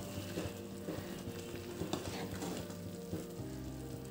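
Soybean pulao bubbling in a pot makes a faint, continuous simmer with soft popping and a light sizzle, broken by a few small knocks and scrapes close by.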